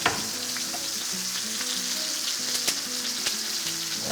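Garlic frying in a pan, giving a steady close crackling sizzle with occasional utensil clicks and light stirring taps throughout.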